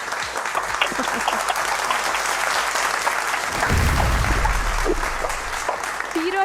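Strong, dense applause from a studio audience on a Kurdish quiz show, steady throughout with a brief burst of cheering and a voice rising midway, faint talk underneath.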